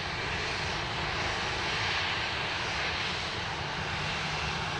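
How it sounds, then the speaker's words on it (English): A Rex Boeing 737-800 jet taxiing at Sydney Airport gives a steady, continuous engine roar that stays at an even loudness throughout, with no voices. "We've got a Rex 737-800 making tracks down taxiway Charlie."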